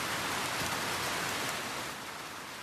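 Steady rain falls outdoors, a soft, even hiss of drops with no other sounds, fairly quiet and unbroken throughout.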